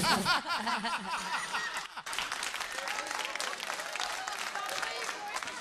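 An audience breaks into sustained clapping, dense and lively throughout with scattered chuckles and voices mixed in.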